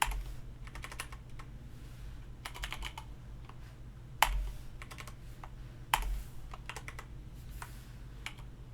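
Code being typed on a computer keyboard, quick clusters of key clicks in bursts separated by pauses, with a couple of louder sharp taps, close and alone.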